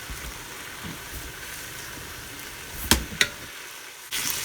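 Bacon frying in a Ninja Foodi gives a soft, steady sizzle and crackle up close, broken by a couple of sharp clicks near the end.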